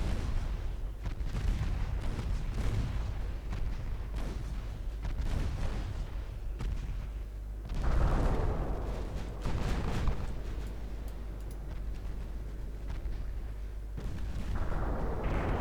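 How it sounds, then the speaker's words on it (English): Naval guns in the warship game Ultimate Admiral Dreadnoughts fire a steady stream of heavy booms and overlapping blasts, some of them shells bursting on incoming torpedoes, that rumble on continuously throughout. "They're blowing up some of their torpedoes"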